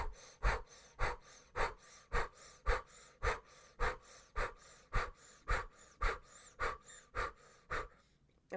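Rapid, rhythmic breath of fire from a kundalini breathing exercise: about sixteen sharp, forceful nasal exhalations at an even pace, close and fairly loud, easing off at the end with no talking.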